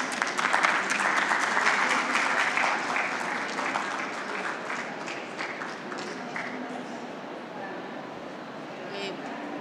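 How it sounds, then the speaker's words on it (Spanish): An audience applauds an award presentation at a book-sales event, a loud dense burst of clapping that gradually thins and softens, with voices murmuring underneath. "así que un aplauso, por favor."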